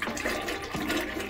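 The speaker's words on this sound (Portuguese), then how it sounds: "Agora a gente vai dar a descarga." A toilet flushes in a home bathroom with a steady, rushing gush of water, close and fairly loud throughout.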